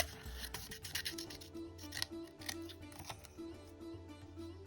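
Scissors cutting paper butterfly wings for a junk journal, a series of close, crisp snipping and rustling strokes in uneven rhythm, fairly quiet, with a faint low hum underneath.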